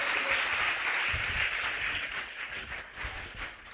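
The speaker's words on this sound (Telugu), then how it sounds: "2 చేతులు పైకి చప్పట్లు కొట్టండి" A church congregation at a prayer gathering clapping their hands together, a dense wash of applause that is loudest at first and then thins into a few uneven bursts.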